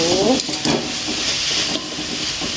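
Glutinous rice flour dough for enten-enten is stirred in a pan, soft scraping and sizzling close by, a brief sustained rustle with a few louder strokes.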